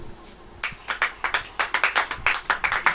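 A congregation claps hands in church, starting sparse, then settling into quick, steady rhythmic claps, close and fairly loud.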